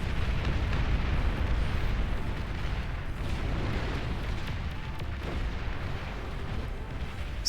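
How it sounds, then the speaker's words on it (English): Artillery shell volleys explode in the strategy game Beyond All Reason, a dense continuous rumble of booms and bursts rolling on without pause. "Red now with a trimmer, which will shoot these volleys of shells down at his opponent"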